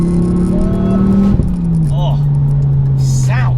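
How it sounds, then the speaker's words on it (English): A 400bhp Ford Focus RS in WRC Michelin livery holds a loud, droning engine note that dips briefly and then settles lower, with a voice talking over it. "I am so impressed with the sound of this car"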